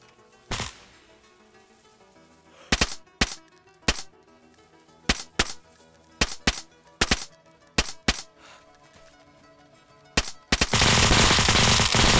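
Sharp gunshots in the video game DayZ crack out in scattered bursts of single and double shots over a quiet droning background, ending in a loud sustained blast of noise.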